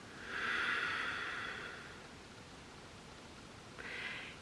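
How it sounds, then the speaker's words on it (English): Slow breathwork exhale, a long soft airy rush of breath out that fades gradually, followed by the start of another quiet breath, close and gentle with no talking. "And exhale."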